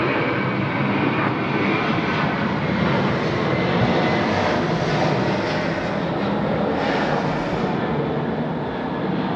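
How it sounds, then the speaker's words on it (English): Airbus A330 jet taking off at night in heavy rain, a loud, steady broadband engine roar that holds strong and close throughout with no break. "Right, here we go on the A330."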